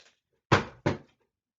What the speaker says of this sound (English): My cat just knocked a box off my table.